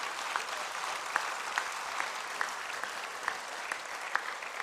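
Steady audience applause at an evening political public meeting in La Glacerie, a continuous dense patter of many hands with a few sharper claps standing out, moderately distant and without talk.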